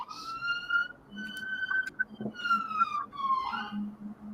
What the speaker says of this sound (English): Oh, I can hear some sirens.